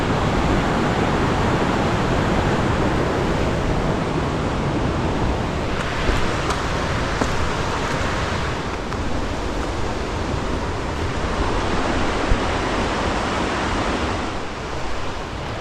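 Water flows steadily at a small trail water source in Linville Gorge, a continuous, fairly loud rushing wash with no breaks and no voices.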